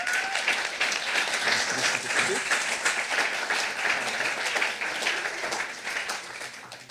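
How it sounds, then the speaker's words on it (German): Crowd applause at a science slam evening as a speaker is welcomed to the stage: sustained, thick clapping from a large audience, steady throughout and tapering slightly at the end, with a few voices underneath. "Einen großen Applaus für Julia Marzone."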